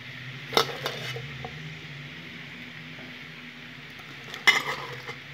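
Chinese cabbage leaves fry in a pan with a steady, close sizzle and hiss, broken by two sharp utensil clanks against the pan near the start and end.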